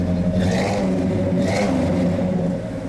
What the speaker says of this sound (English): Give that thing a little rev